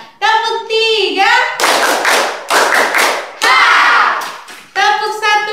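Young pupils in a classroom clap a group chant pattern: three or four strong, close bursts of clapping set between chanted voices that open and close the sequence.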